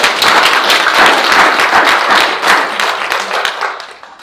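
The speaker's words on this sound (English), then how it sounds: "So let's welcome Reina. A big applause." An audience claps loudly and steadily, many hands together close by, then the applause gradually thins and fades toward the end.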